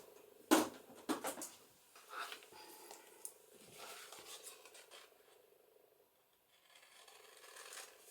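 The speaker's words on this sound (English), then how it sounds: "Probably should use some bigger blade scissors" Paper cut with small scissors while making junk journal embellishments: a few sharp snips near the start, then soft scraping, rustling and handling sounds, close and fairly quiet.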